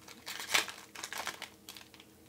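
Foil wrapping of a Magic: The Gathering Masters 25 booster pack crinkles and tears open in quick, close bursts, a sharp rip followed by softer rustling, quiet and without voices.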